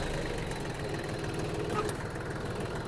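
A Yanmar F-20 mini tractor engine runs steadily at a quiet idle nearby, a continuous low mechanical hum with faint knocking pulses throughout.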